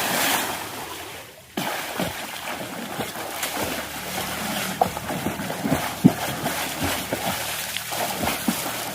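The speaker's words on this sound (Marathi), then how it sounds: "किती पाणी उडवतोय." Water splashes and sloshes in a resort swimming pool, with irregular bursts of splashing at a moderate distance over a constant watery wash.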